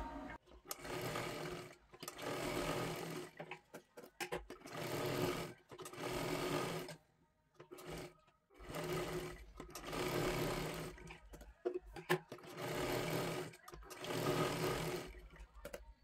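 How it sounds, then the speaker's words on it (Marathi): A sewing machine stitches a katori blouse in bursts of steady rapid whirring, each run lasting a second or two, separated by short pauses, close and fairly loud with no talking. "आता आपल्याला शिलाई करून घ्यायचं आहे।"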